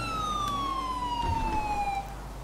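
Police car siren in GTA V, a steady wailing tone sweeping slowly downward, loud and close behind a car, with engine rumble underneath and no talk.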